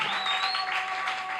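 Congregation applauding and cheering for the king during a Sunday church service, a dense sustained wash of clapping and voices with a steady tone running through it.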